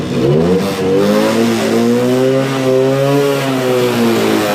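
A Suzuki 50 motorcycle engine, de-restricted, revs high and holds, its pitch climbing then sustained, loud and close, with no talking.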